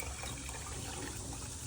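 Water pours steadily into a smart tank in a small IoT irrigation setup, a continuous soft gushing rush with no voices.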